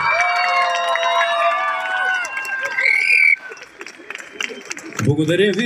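Festival crowd outdoors cheers and shouts loudly with excited, overlapping voices and some high children's cries, then drops to scattered noise before a fresh burst of voices at the end; clapping is barely distinct.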